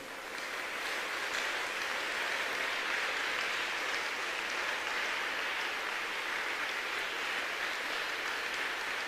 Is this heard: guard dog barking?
no